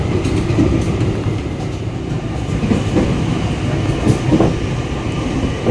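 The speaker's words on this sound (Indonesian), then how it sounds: "lokomotifnya akan menggeber-geber karena setelah ini tanjakan" A passenger train pulled by two diesel locomotives revving before an uphill grade rumbles along steadily at about 65 km/h, with a heavy, continuous low drone and faint rhythmic wheel clatter, loud and close throughout.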